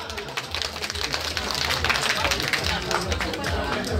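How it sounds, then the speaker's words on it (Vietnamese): Guests at a Vietnamese wedding ceremony applaud as the bride is welcomed, a steady wash of clapping from a crowd with murmuring voices mixed in throughout. "quý vị chúng ta hãy dành một tràng pháo tay thật lớn ạ"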